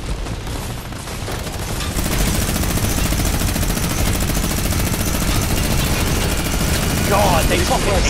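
A minigun roars in a video game, a dense continuous buzzing burst that swells after a moment and holds steady for several seconds, with faint game effects layered on top.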